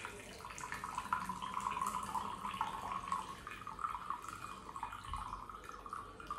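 Excess water poured off a pot of chicken-flavoured instant dry noodles, a steady close trickle and splash of draining liquid running throughout with no talk.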